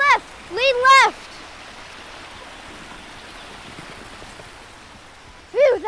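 Rushing water stands in for a waterfall on a home-made Jungle Cruise parody ride, a steady, moderately loud hiss running between short bursts of speech at the start and end.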